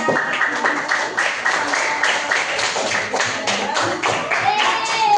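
Hand clapping from a group of students in a classroom during a computational thinking lesson: dense, fairly loud, overlapping claps sustained throughout, with some voices mixed in.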